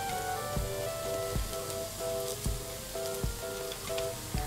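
Snacks made of muri and semolina fry in hot oil with a steady, hissing sizzle, partly buried under music that has a regular thumping beat.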